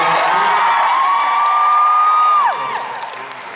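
An audience at a live event cheers loudly with a long sustained whoop rising over crowd noise, then the cheering fades down toward the end.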